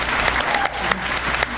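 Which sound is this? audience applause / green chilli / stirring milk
audience applause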